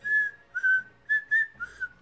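A voice imitates whistling from outside, five sustained whistled notes with short gaps between them, close and fairly loud, with no talk over them.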